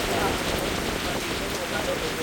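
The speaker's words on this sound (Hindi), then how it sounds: "लेकिन बहुत तेज़ बारिश है।" Heavy rain pours down steadily at close range during a wildlife patrol in tiger territory, forming a dense, loud, unbroken hiss with no pauses.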